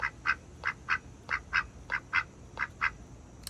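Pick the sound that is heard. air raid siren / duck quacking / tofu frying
duck quacking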